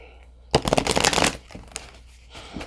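Brisk papery riffling of tarot cards in a burst lasting under a second, then a few soft taps and a faint rustle, close and fairly loud.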